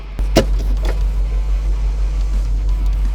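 Power split tailgate on a 2021 BMW X5M Competition SUV moving on its own: a soft click, then a steady low electric motor hum that runs evenly throughout, with no voices.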